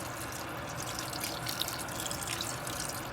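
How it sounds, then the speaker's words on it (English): About half a cup of water poured into a pot of salted beef as it cooks, a steady close hiss and splatter of liquid hitting the hot pot, with no talk. "I'm just gonna add a little bit of water to help the cooking process along"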